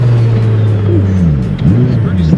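Turbocharged S52-swapped BMW E30 making 1200 HP, heard from inside on a ride-along as a loud, steady engine drone that rises and falls through quick rev changes, with people talking over it.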